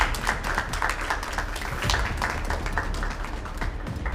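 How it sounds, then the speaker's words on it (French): An audience applauding at a Miss Universe DR Congo pageant elimination show, a sustained burst of scattered, crisp hand claps that stays fairly loud throughout. "Est-ce qu'on peut applaudir pour elle, s'il vous plaît?"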